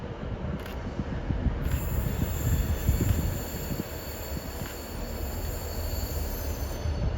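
Pendolino train arriving at Carlisle station on the West Coast Main Line: a broad rumbling roar of a train rolling in, steady and moderately distant, with a faint high squeal of wheels above it.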